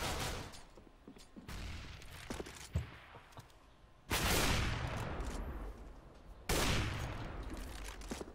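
Bursts of rapid gunfire in the video game CS:GO come in several volleys, with quieter stretches of scattered shots between them, harsh and fairly loud.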